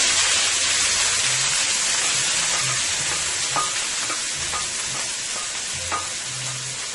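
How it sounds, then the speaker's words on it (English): Seasoning fries in hot oil in a stew pot, a dense steady sizzle throughout with occasional soft clinks and scrapes of stirring. "you're going to let that fry for about 3 minutes, 2 to 3 minutes"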